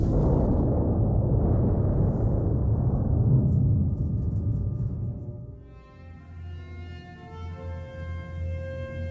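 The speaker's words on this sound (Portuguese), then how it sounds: "A selva treme, a explosão engole a floresta," A huge film explosion engulfs a jungle, a loud roaring blast rumbling for several seconds before it fades into a lower, lingering drone with sustained tones.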